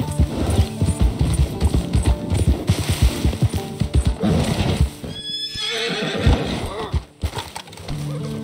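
A horse in the video game Red Dead Redemption 2 whinnies loudly after a stretch of rhythmic hoof clip-clops, with a sharp rattling burst mixed in.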